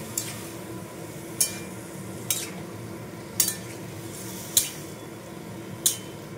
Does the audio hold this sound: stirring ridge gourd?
yes